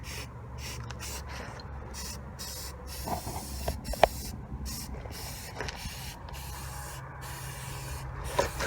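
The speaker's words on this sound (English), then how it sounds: "Shake up the can of paint. Open the can. And then start painting the tip." Black aerosol spray paint hissing from a shaken can onto a car exhaust tip, in several short bursts with brief gaps, fairly close under steady low background noise.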